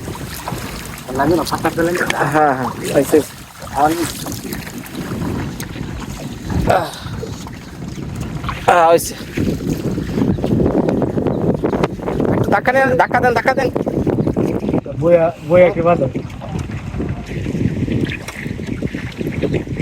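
A boat rocks on rough, wavy water, with a loud, continuous rush of water and wind buffeting the microphone, and people talk over it throughout.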